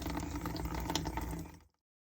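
Coolant pours out of the drain at the bottom of a Maserati GranTurismo radiator in a continuous splashing, gurgling stream, close by, before stopping abruptly.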